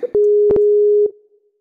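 A steady electronic phone tone sounds loud and alone for about a second while a caller is dialed into a call, broken by short clicks before it fades out.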